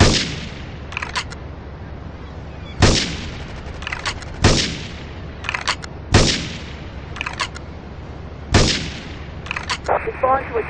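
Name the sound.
gunfire and explosions in the video game Grand Theft Auto III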